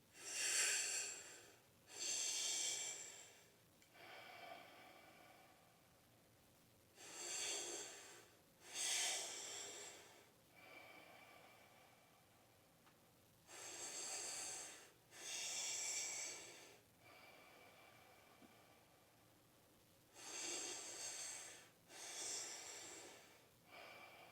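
Slow, controlled pranayama breaths during an outdoor group breathwork session in a park, heard as long airy exhales in evenly spaced pairs with quiet pauses between them, close and alone without talk.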